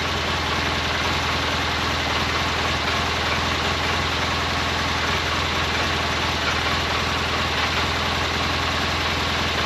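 A 2012 Polaris Ranger engine runs loud and close at a steady idle with a dense, unchanging drone. A slight rattle from the clutch blends into the running noise throughout.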